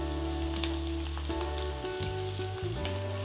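Sabudana and potato sautéing in ghee for sabudana khichdi, a steady close sizzle with occasional stirring scrapes, loud and continuous with no talk.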